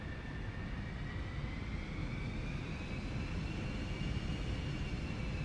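Aerobask Eclipse 550 jet in X-Plane 11 taking off, a steady roaring engine drone with a rising whine, constant and fairly close, no talk over it.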